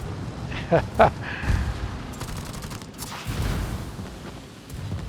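Naval guns fire in a warship video game, with a cruiser engaging the battleship Bismarck, giving a quick cluster of sharp booming shots followed by rumbling blasts, heard under someone talking.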